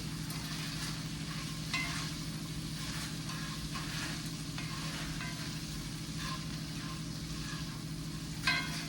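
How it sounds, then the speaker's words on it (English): Chickpeas seasoned with Italian seasoning and garlic salt sizzle in a frying pan, a constant close crackle with occasional scraping stirs and a louder knock near the end. "I'm gonna stir it around in the pan"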